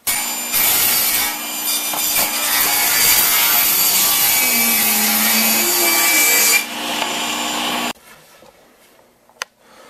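A power tool trues up a rough pallet wood board, a loud, close, continuous grinding rasp lasting several seconds before it cuts off, leaving quiet room noise with a sharp knock near the end.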